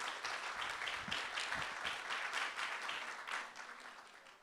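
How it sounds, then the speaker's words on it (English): Quiet, somewhat distant audience applause at a cultural centre grand opening celebration, a steady patter of many hands that thins slightly toward the end. "let's give them a big also round of applause."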